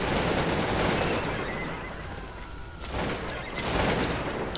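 Horses whinny loudly amid a dense din of battle in Cossacks 2: Battle for Europe, with musket volleys and booming gunfire rolling in waves over a constant wash of noise.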